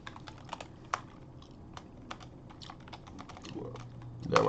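Someone types on a computer keyboard in a room, with irregular bursts of close key clicks and pauses, plus a few louder thumps toward the end.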